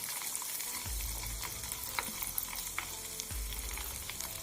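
A homemade herbal hair oil heats in a pan with a soft, continuous frying sizzle, while scraping stirs and low thuds of the utensil against the pan recur at intervals, close and quiet, with no voices.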